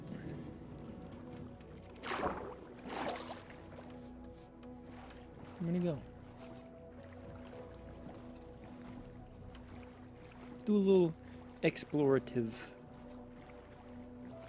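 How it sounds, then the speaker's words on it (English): Water sloshes and splashes from a small boat being rowed in Minecraft, with a few bursts of speech over it. "We're just gonna hop in the boat."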